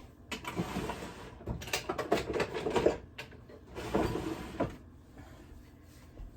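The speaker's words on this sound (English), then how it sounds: "Get those eggs mixed up. I think I'll grab my whisk." A whisk beats eggs in a bowl, giving quiet, irregular clattering strokes in uneven bursts up close, with a short pause partway through.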